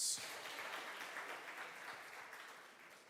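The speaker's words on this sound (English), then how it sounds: "A round of applause to our regional coordinator," A youth audience at a parliamentary-style conversation with the President gives a dense round of clapping, fairly faint and distant, tapering slightly toward the end.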